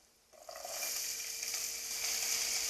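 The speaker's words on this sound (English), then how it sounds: "hear that sizzle. That's what you want to hear." Oil bursts into a loud, steady sizzle a moment in as garlic and peas fry hard and continuously in a pan close by, no voices.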